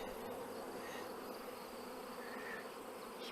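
Honeybees hum steadily around an opened hive during a nuc transfer, a dense, continuous buzz close by with no talking.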